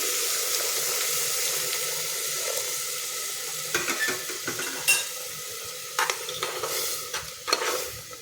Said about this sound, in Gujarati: હવે આપણે એમાં દૂધ નાખી દઈશું